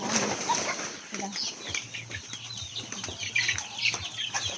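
Layer chickens in a grower house cluck and chirp in a busy, overlapping chorus with occasional wing flutters, over a steady low mechanical hum.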